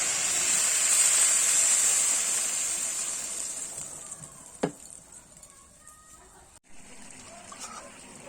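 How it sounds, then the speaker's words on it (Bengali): Water poured into a hot pan of sizzling spices for a Bengali fish curry erupts in a loud close hiss and splatter that gradually fades to a softer bubbling simmer, with a sharp knock and clatter partway through. "এবার দিয়ে দেবো পরিমাণ মতো জল।"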